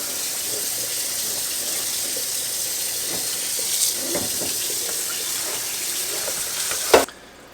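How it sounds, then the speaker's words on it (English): Salted fish for pickling is rinsed under a running kitchen tap, a continuous loud rush of water with occasional splashes and a clunk near the end. "rinse it off pretty good here with water"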